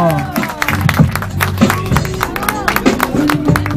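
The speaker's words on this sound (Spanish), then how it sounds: "¡Un aplauso!" Audience applause at an award ceremony for a child receiving an honourable mention, with scattered claps and cheering mixed with crowd murmur and voices throughout.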